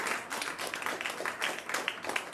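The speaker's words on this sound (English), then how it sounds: "Leslie, everybody, round of applause for Leslie." A comedy show audience gives a round of applause, a soft, fairly distant patter of many hands clapping at a steady level.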